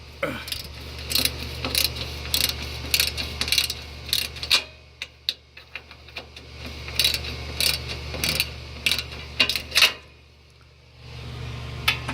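A 1/4 inch socket ratchet works on an air conditioning unit panel, giving bursts of quick clicking in short runs with brief pauses, close and moderately loud over a low steady hum.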